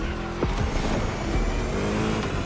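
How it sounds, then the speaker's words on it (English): A V8 engine roars in The Crew Motorfest racing game, a loud, close, throaty rumble with rising and falling revs across a short continuous burst. "Just listen to that V8 like a chunky, down-tuned guitar riff."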